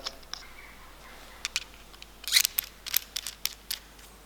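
A glass TIG welding cup is screwed onto the torch collet, giving a scatter of light, close clicks and ticks with brief scraping in a quiet room.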